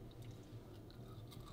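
Quiet, close-up crunchy chewing of grilled dried pollack, with crisp bites and soft crackles in a steady rhythm.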